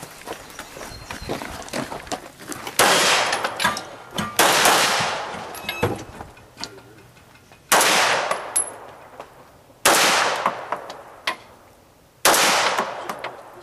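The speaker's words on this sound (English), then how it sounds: "Shooting over top of it." Gunfire on a shooting match stage: several sharp loud bursts of rapid shots in clusters with short gaps between strings, heard close and alone.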